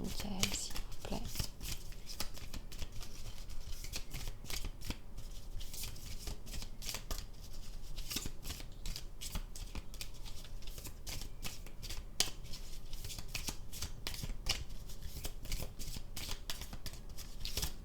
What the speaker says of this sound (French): je vais finir avec une jolie carte de l'archange Michael